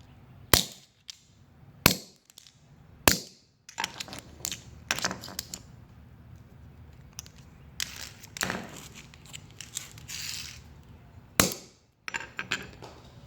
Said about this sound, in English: I'm just going to get my hammer and give this plastic a couple good strikes to break it.